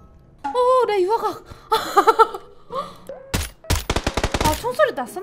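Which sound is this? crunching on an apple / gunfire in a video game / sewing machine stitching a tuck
gunfire in a video game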